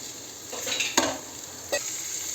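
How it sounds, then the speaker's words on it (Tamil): Onions sauté in a pan with a constant sizzle and two distinct clinks of a spoon against the pan, close up, with no voices. "வெங்காயம் நல்லா வதங்கட்டும்"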